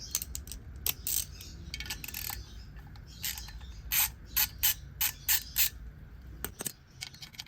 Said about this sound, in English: It's really tight, so I had to use a wrench and a socket.